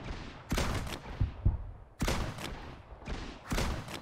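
Gunfire in the mobile shooter FRAG: Pro Shooter: three loud bursts of rapid shots, each lasting about half a second to a second, separated by brief pauses with a couple of dull thuds between them.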